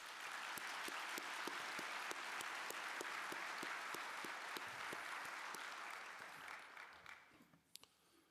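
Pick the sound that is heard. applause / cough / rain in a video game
applause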